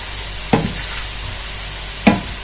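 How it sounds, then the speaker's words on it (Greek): Pork fat for traditional Greek bacon and lard sizzles steadily in a pot, with two sharp scraping knocks as it is stirred, about one and a half seconds apart. "Όπως βλέπετε το λίπος έχει ήδη αρχίσει να φρίζει"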